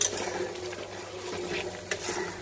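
Curry with masala and native shrimp sautéing in a pan, a continuous sizzle with occasional stirring scrapes, close and steady.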